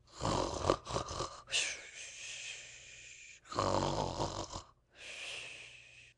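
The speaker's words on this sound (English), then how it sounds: "The snores continued." Loud, close snoring comes in several long, rasping breaths separated by short gaps, each snore harsh and breathy with snorting texture, and no talking.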